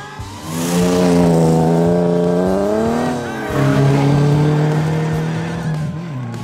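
A rally car in the Sno Drift Rally video game, running in sleet with its exhaust apparently fallen off, gives a loud, close, buzzing engine drone whose pitch climbs, dips around midway, then rises and holds again.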